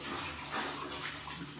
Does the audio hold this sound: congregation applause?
no